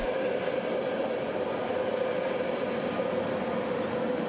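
A Vienna S-Bahn train runs through a tunnel section toward the airport line, a constant loud rumble with a steady tonal hum, heard close and unbroken for the whole stretch.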